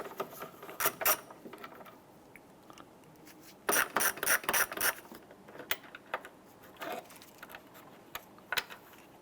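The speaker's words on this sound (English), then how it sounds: "Let's go ahead, loosen and remove these two." A tool loosens and removes two 8mm screws holding the tail light on a 2009-2015 Honda Pilot, making close, dry ratcheting and rasping bursts with brief quiet gaps.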